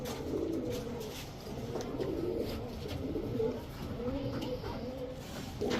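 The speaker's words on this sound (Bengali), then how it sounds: "এখন দেখাবো এক জোড়া টাইগার রেসার কবুতর, একেবারে সেম প্রিন্টের একটা জোড়া।" A pair of tiger racer pigeons coo continuously up close in low, throaty, rolling phrases over a soft background hum.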